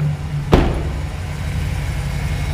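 A Chevrolet Silverado with a 4.8 liter Vortec engine idles with a steady low rumble, broken early by one brief sharp thump or click, and no one speaks.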